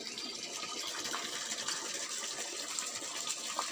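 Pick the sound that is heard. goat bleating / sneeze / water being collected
water being collected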